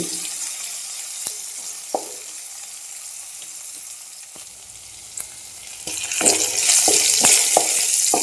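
Vegetables simmering in a pan over low heat give a steady soft sizzle and hiss throughout, with a few faint utensil clinks and stirring sounds, and the sizzling swells louder toward the end.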